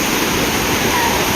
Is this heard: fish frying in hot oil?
no